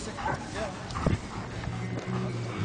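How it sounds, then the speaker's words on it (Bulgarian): A dog barks sharply and lets out whimpering yelps, close by, with people talking in the background, at a specialty dog show demonstration in Bulgaria. "Животното се обажда само през устата."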